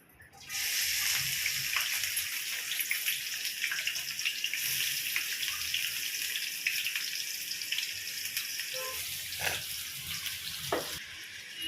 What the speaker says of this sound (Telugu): ఇందులో మనం ఫస్ట్ కట్ చేసి పెట్టుకున్న ఆనియన్స్ని వేసుకుందాం. ఇప్పుడు ఆయిల్ వేడెక్కాక